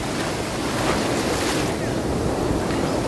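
Waves crash along Puri beach, an unbroken, fairly loud churn of surf and wind rumbling against the microphone, with no one talking.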